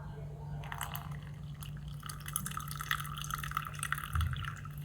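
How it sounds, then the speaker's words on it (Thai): Brewed Thai tea drips through a cloth filter and is poured into a container, a soft trickle and faint splashing at low level while someone talks over it. "น้ำชาก็จะตกลงมานะครับผม ลงมาให้หมดเลยก็เทใส่"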